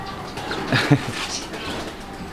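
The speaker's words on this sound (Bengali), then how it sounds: "এখানে আরও এক জোড়া কবুতর আর এই যে দেখেন এই জোড়াটা এখানে ডাকাডাকি করতেছে" A pair of fancy pigeons coos softly nearby in a loft, a few low throaty calls rising briefly over background murmur and faint voices.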